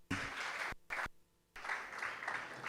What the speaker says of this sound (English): I think we should clap for him